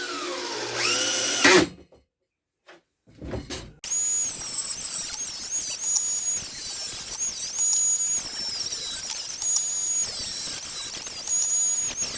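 A power drill switched out of hammer mode runs in a side tunnel of an underground bunker under construction. After short bursts and a brief silence, it runs steadily and loudly up close with a high, wavering whine.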